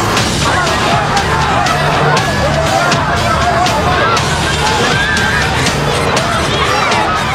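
Thousands of people pushing and jostling to get through a gate, a loud, dense roar of crowd noise with running feet, shouting babble and occasional crashes throughout.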